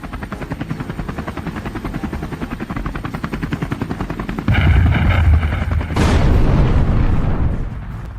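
A helicopter sound effect: a loud, steady, rhythmic rotor chop that swells louder about halfway through and is joined by a rushing roar, with no voices.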